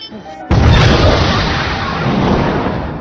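A bomb goes off with a sudden loud boom that erupts after a brief quiet lead-in, then a broad roaring rumble slowly fades over a few seconds, close and powerful.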